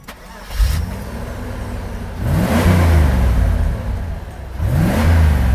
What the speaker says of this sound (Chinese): 好，关掉引擎，重新启动。